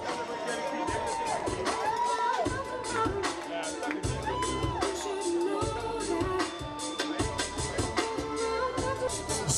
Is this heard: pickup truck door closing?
no